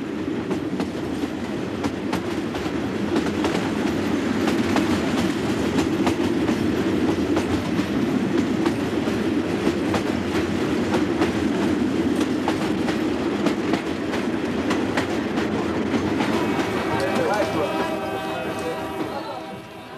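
A passenger train in Africa rumbles along steadily with rhythmic clickety-clack of wheels on rails, loud and close, a brief squeal near the end.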